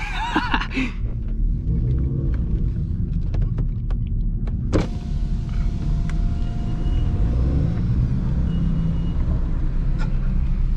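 Inside a stage 2 BMW 340i racing a 335i, a heavy engine rumble drones loud and steady throughout, with a sharp click and a faint whine mid-run.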